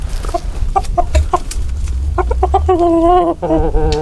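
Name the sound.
chickens clucking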